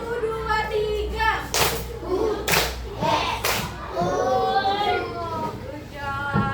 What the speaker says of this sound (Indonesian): Tepuk satu, dua, tiga.